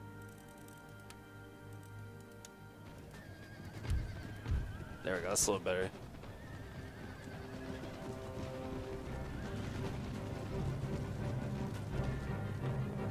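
Horses neighing and hooves clip-clopping on a battlefield in Empire Total War, with a whinny burst in the middle over a steady rumbling game din, while someone talks over it.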